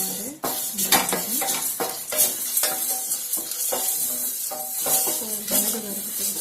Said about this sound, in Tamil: மிளகு வறுத்து போகணும்.